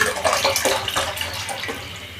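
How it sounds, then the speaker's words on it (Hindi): Milk pouring into a pan on the stove for a custard kunafa dessert, a steady wet splashing stream close by, loud and unbroken for about two seconds with no voices. "पैन में सबसे पहले मिल्क ऐड करेंगे"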